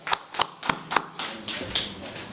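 An audience claps at a press conference: a few sharp, separate handclaps land in a quick uneven rhythm, then trail into softer, scattered clapping.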